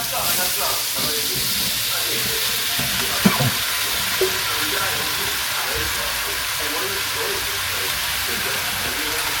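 Shrimp fry in a pan for a peppered shrimp dish, a loud, dense, continuous sizzle close up, with a couple of faint utensil knocks.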